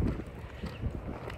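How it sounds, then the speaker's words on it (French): Strong wind buffets the microphone outdoors after a morning run, a rough, gusty low rumble that rises and falls throughout, loud and close. "On rentre du footing avec un vent pas possible"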